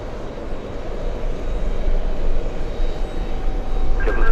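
A Korean Air Cargo Boeing 777 at JFK Airport, a loud sustained low engine roar that builds steadily over a few seconds, heard from a distance on a hot day.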